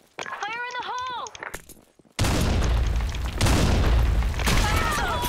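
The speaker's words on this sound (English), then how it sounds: "Fire in the hole. Grenade." A grenade blows up in the video game BlackShot: a sudden heavy boom hits after a short shouted voice call, followed by a second loud blast and rumbling, close and powerful.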